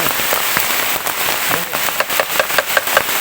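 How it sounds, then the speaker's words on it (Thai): Heavy rain pours steadily in a forest during a storm, a dense hiss broken by sharp, irregular drops and taps striking nearby surfaces like bamboo, with no voices. "ขนาดฝนตกขนาดนี้นะครับเพื่อน"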